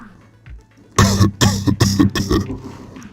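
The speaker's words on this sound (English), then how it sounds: "I can try coughing." A burst of several forceful coughs in quick succession, close and loud, following a quiet lead-in.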